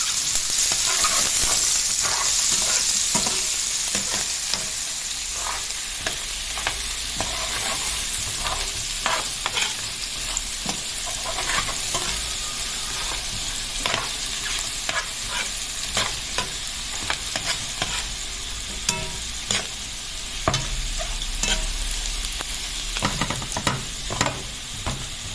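Chopped onion from a large bulb frying in ghee, a steady sizzle close by with frequent spoon scrapes and clicks against the pan as it is stirred, continuous and without voices.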